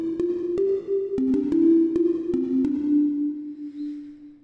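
Percussive synthesizer bass layer for a growl bass patch, with a strong attack and quick decay, playing a short sequence of sharp plucked tones over a sustained low note.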